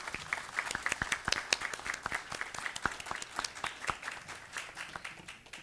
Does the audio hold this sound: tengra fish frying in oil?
no